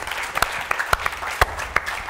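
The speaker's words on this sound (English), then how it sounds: "Everybody give Matt a round of applause." Small audience applause at a Lambda Pi Eta media event, a brief spatter of sparse, distinct claps from a few people in a room.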